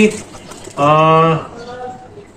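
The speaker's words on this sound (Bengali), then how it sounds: "আর এখানে কবুতর গুলো দেখতে পারবেন" A pigeon in a loft gives one clear, loud, tonal coo lasting about half a second, with quieter background sounds and faint room noise before and after it.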